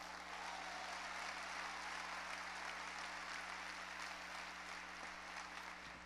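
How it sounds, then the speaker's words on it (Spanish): Congregation applauding during a church sermon, a steady dense wash of clapping from a large crowd that fills the whole stretch at even loudness with no talk over it. "Si tú le vas a dar un aplauso,"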